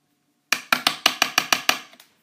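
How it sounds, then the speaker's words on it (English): Rapid tapping on a painter's palette while mixing orange and gold paint: eight or nine sharp, close taps in a quick, fairly even rhythm after a brief silence, the last few fading softer. "So if you hear a lot of tapping, that would be my palette."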